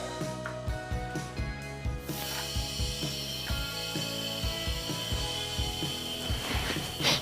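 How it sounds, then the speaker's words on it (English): A hand pump is worked to pressurize a pressure pot for epoxy resin casting of shaving brush handle blanks, making a regular series of close mechanical strokes and clacks that runs steadily throughout. "So we'll just pump it up now."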